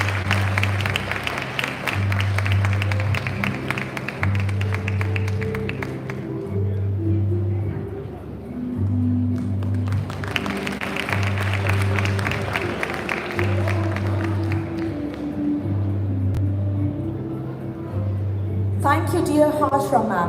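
Audience claps at a school annual prize day for grades 10 and 12, steady applause that fades slightly midway and swells again, over a repeating low musical tone pattern, with a brief burst of noise at the close.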